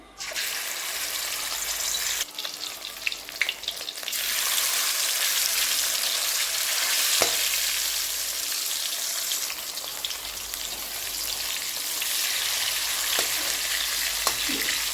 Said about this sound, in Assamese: তেলখিনি গৰম হৈ গৈছে, এতিয়া মাছ কেইপিচ দি ভাজি ল'ম।